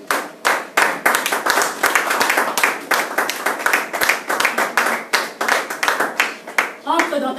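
Congregation applauding at a French-language church service, rapid rhythmic clapping filling the room and holding steady throughout, with a voice rising briefly near the end.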